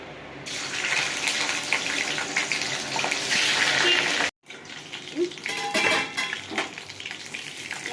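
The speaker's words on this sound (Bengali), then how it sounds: "মাছগুলো এবার আমি ভেজে নেব।" Salted, turmeric-rubbed boal fish pieces dropped into hot oil in a wok, giving a loud, hissing sizzle that breaks off briefly, then settles into a quieter steady crackle with occasional pops.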